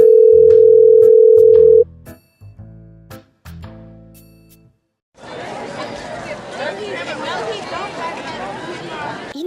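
Phone call dial tone in the Sakura School Simulator game: a steady tone, then several evenly spaced ringing pulses, followed by a busy crowd chatter.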